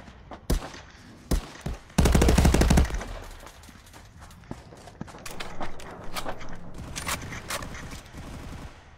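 Gunfire in the VR shooter game Contractors: sharp single shots, then a loud rapid burst of automatic fire, followed by scattered shots and footsteps in a busy game mix.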